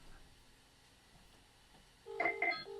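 An incoming call rings on a computer, a quiet room tone followed by two short bright electronic tone bursts near the end, clear and close.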